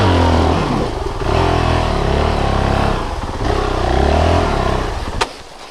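A Honda CRF450L motorcycle engine that keeps stalling, running loud and close with an uneven, rough idle that surges and dips before cutting out abruptly near the end.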